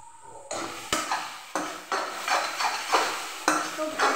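Maggi noodles stir-fried in a pan, a series of close scraping and clattering utensil strokes against the pan at an uneven rhythm, with a faint sizzle underneath and no talking.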